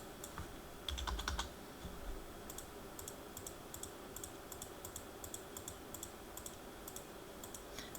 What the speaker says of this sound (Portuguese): vou digitar aqui novamente